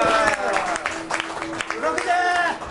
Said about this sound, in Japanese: 還暦森正に大きな拍手を。